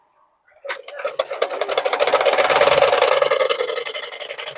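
A sewing machine stitching a double katori blouse starts after a brief click, then runs in a rapid, even train of mechanical pulses that gets louder and keeps going steadily, with no voices.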